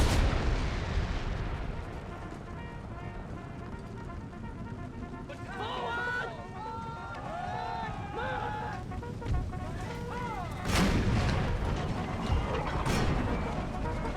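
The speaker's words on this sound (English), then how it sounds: "I'm going to have my cannons redirect some fire here." Booming cannon fire in Empire: Total War with a Civil War mod, deep heavy blasts and rumbling battle sounds under steady game noise, with a voice speaking over the action.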